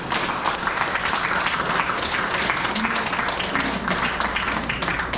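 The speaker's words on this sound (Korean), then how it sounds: "우리 모두 박수 한 번 모으겠습니다" An audience at a book concert celebrating a professor's memoir applauds with dense, sustained clapping that holds at an even, loud level for the whole stretch.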